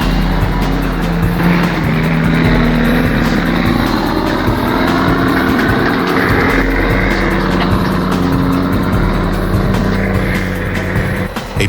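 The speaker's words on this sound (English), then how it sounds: "the truck grinds through loose gravel and deep ruts, showcasing its raw power and resilience on the treacherous ascent." A heavy logging truck grinds up a loose gravel mountain road with deep ruts, its engine a loud, steady low roar that continues throughout with rough, churning texture and no break.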